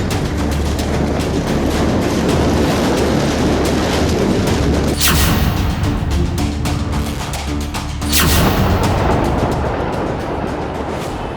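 A fireworks factory explosion: continuous loud roaring and crackling rumble with a low drone, broken by two sharp, bright bursts, one midway and another a few seconds later, and no speech.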